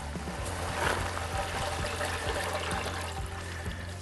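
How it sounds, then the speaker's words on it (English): Water trickles and splashes from the top of a 2-inch gas water pump during priming, a steady close pouring sound with a low rhythmic hum underneath and no talk. "So there's water coming out here in the top."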